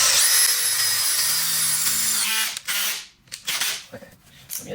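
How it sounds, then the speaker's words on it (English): A power drill whines steadily for a couple of seconds while drilling a hole for Toyota Camry side skirts, then cuts off, followed by a few clunks and faint handling noises. "I'm going to center it right in the center of that dimple and just drill straight down."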